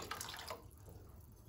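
Leftover cooking water from boiled moth beans pours into a pot of Kolhapuri misal, a short splashing stream in the first half-second that trails off into a soft, low liquid murmur close by with no talk.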